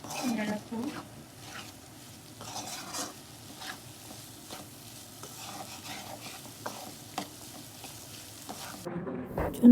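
Homemade samosas frying in hot oil while being stirred: a soft, continuous sizzle with intermittent scraping stirs in the pan, faint and fairly close, ending in a brief louder clatter.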